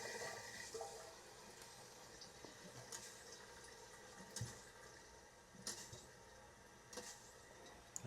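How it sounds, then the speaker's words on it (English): Water runs steadily into a newly installed Bio Bidet toilet seat, a soft continuous hiss and trickle close by, with a few faint clicks and taps over it. "Water's flowing."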